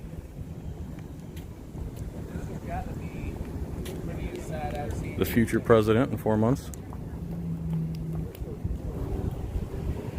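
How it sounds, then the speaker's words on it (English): A water taxi boat passing along a downtown Tampa waterfront, a low engine rumble under wind buffeting on the microphone, with people talking nearby throughout. "Water taxi."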